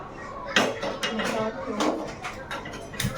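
A metal cooking pan clinks and clatters as it is set down and handled in a kitchen while preparing an eggplant bhaji. The knocks and scrapes are moderate and intermittent, and a voice seems to be present under them.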